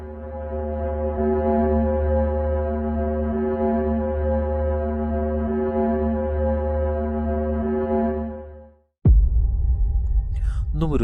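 A sonification of the planet Venus: a deep, steady droning hum with layered harmonic tones sustains for about nine seconds, then fades out and gives way to a brief rougher, noisier rumble.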